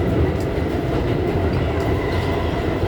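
A New York City subway G train, a new R211 car set, rumbles past close by on the IND Crosstown Line, its loud continuous roar and wheel clatter holding steady throughout.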